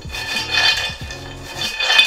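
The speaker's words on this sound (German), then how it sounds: "Hast du schon mal geschwenkt? Eine Pfanne geschwenkt?" Walnuts are tossed in a frying pan while roasting, giving rhythmic bursts of rattling and scraping against the metal, close and fairly loud, with no talk.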